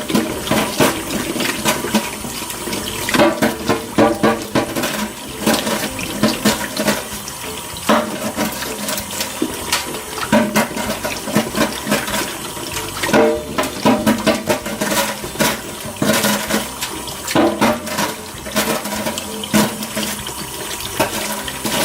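Tap water pours steadily into a kitchen sink filled with ice water, a loud, continuous rushing and splashing that holds without pause from start to finish.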